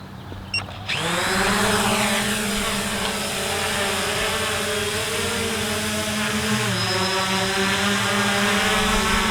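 A Potensic Dreamer 4K drone spins up and lifts off, its propellers breaking into a loud, steady whirring buzz after about a second of near quiet, the droning hum holding strong and close throughout.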